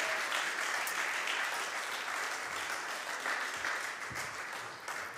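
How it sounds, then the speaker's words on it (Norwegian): An audience at a Christmas concert applauds the bands, sustained crowd clapping filling the room evenly before tapering off near the end. "Kan vi ikke gi bandene en ekstra applaus?"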